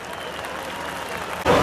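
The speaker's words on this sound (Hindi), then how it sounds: "जोरदार तालियों के साथ का स्वागत करें" Audience applause welcoming a speaker onto the stage at a political party event, a dense steady wash of clapping from a large crowd, ending in a louder surge.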